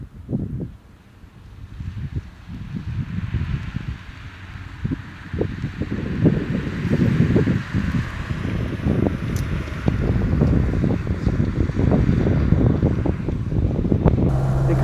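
A 1953 Mercedes 220 six-cylinder engine while driving gives a steady low rumbling drone that builds slightly, partly masked by wind buffeting on the microphone.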